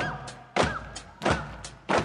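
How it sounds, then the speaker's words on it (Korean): Three heavy thuds land at an even pace like stamping feet during a stage performance of a musical number from "All Shook Up", with a faint melodic tone behind them. "Come on, everybody 두 발을 굴러봐"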